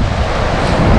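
Sea waves washing onto a beach as the tide comes in, a steady loud roar of surf mixed with gusting wind buffeting the microphone, continuous and close.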